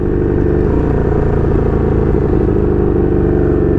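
A 1982 Honda Magna V45 VF750C motorcycle, in need of carburetor synchronization, drones loudly and steadily while being ridden, with a dense, rumbling engine note throughout.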